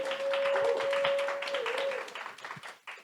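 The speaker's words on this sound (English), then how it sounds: "Can we have a round of applause for the People's Forum?" An audience applauds at a community event in New York, dense clapping for about two seconds under a steady tone that then thins and fades.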